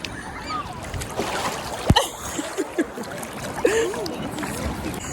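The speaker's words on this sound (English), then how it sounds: "We're catching waves." Ocean waves splash and churn around a boogie boarder riding in the surf at the beach, with irregular sloshes and one sharp slap of water. Voices and excited shouts are heard over the water.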